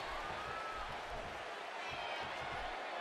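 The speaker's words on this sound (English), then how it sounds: "just listen to this Birmingham crowd as this one gets underway" A Birmingham wrestling arena crowd from the WWE 2K18 video game roars in a continuous, distant wash of cheering and applause, with a low rhythmic rumble underneath.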